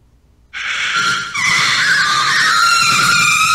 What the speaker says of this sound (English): It's the mandrake scream.